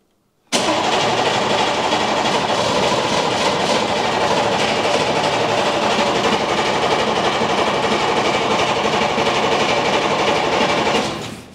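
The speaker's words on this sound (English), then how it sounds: "I'm gonna do it in 10-second intervals just to give that starter a chance, but seems like it was only necessary to do it once" A Humvee diesel engine fires up abruptly after a moment of silence and settles into a loud, steady, rumbling run that holds evenly until the sound cuts off at the end.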